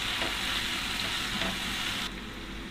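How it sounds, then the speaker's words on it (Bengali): Ground coriander, turmeric and salt are stirred in a frying pan for an egg and eggplant curry, making a steady sizzle with soft scraping strokes that drops quieter near the end. "মশলাগুলোকে ভালোভাবে মিশিয়ে নিচ্ছি।"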